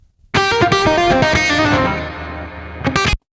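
A short, distorted, dry electric guitar solo phrase without reverb: several quick plucked notes, then a held note fading, and a final sharp stab that cuts off dry.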